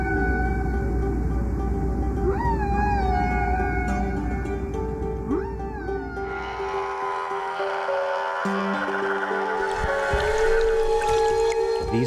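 Humpback whale song recorded underwater: loud, continuous layered moans and rising and falling whistle-like tones, with drawn-out sweeps and a rumbling low undertone, no talking.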